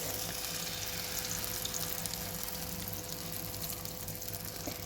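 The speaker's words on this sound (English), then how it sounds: "just fry them with a little bit of olive oil" Egg whites fry in a little olive oil in a pan, giving a steady, soft, close-up sizzle that continues evenly with no voices.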